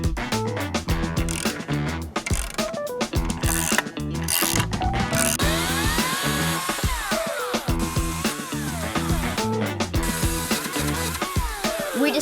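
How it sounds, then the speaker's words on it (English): A socket wrench ratchets while bolts are driven into a wooden backyard mountain bike drop, giving rapid, loud clicking bursts in repeated strokes with short pauses between them, close to the microphone and with no talking. "when your socket wrench sounds like an i9 hub"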